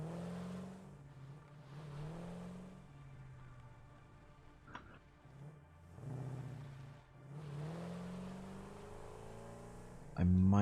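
A vehicle in the factory-building game Satisfactory drives along with a steady, droning engine that rises and falls gently, while people talk over it; a sharp louder thump lands at the very end.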